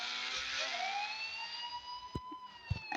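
A police car siren in a motorbike video game, wailing up and down steadily across the clip with a few sharp thumps of game action near the end and no talking.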